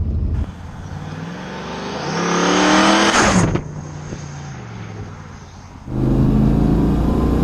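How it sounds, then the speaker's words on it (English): A turbocharged car revs hard, its engine note climbing to a loud roar, then drops off as the blow-off valve vents with a hissing whoosh, before the engine surges loudly again, close by with no talk. "It's that beautiful blow-off valve. Love that sound."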